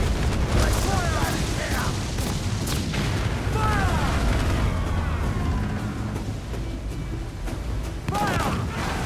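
Ship cannons in Assassin's Creed Black Flag fire during a naval battle, heavy booms and rumbling blasts repeating throughout over dense battle noise, with shouted voices and a few whistling, sweeping tones.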